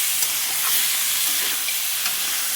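Food, including potatoes, fries and is stirred in a hot pan, giving a steady, close sizzle with faint scraping. It runs alone and evenly throughout.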